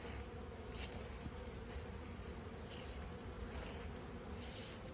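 Honey bees hum in a dense, continuous swarm around a row of beehives outdoors on an autumn day, their buzzing steady and close throughout with no voices.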